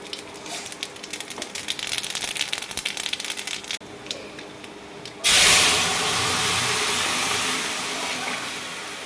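Nigella seeds hit hot oil in a kadai for tempering a vegetable curry, bursting into a loud, steady sizzling hiss that slowly fades after a stretch of quieter kitchen clatter.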